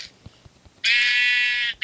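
A sheep in a video game gives one loud, drawn-out bleat close by, followed by the start of another, over quiet background taps.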